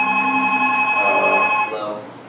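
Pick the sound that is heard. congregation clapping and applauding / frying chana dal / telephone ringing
telephone ringing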